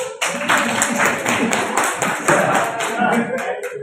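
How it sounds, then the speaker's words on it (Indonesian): An audience gives a round of applause, steady crowded clapping close by that continues at an even level, with some voices mixed in. "Beri tepuk tangannya dulu."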